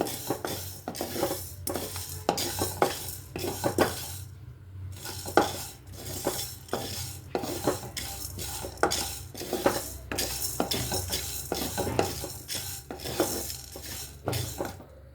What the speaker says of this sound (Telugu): జీలకర్ర మిరియాలు మెంతులు గుమ్మగుమ్మ వాసన వచ్చేలాగా వేగుతున్నాయి చూడండి